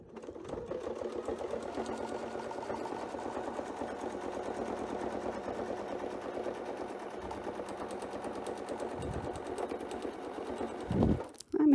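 A sewing machine stitches a quilt along curves in a fast, steady mechanical whir of rapid needle strokes, running close and continuous for most of the stretch before stopping near the end.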